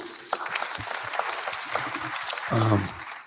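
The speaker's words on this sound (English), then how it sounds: "Let's give them a hand clap real quick." Audience applause breaks out at a community men's health clinic held by a church health ministry, a steady patter of hand claps mixed with voices and rising louder near the end.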